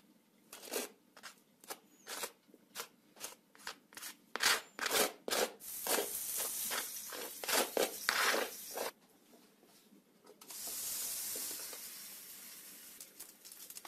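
Repeated scraping strokes of a knife spreading butter across crisp toast bread, rhythmic rasps that speed up, then a longer softer smear near the end.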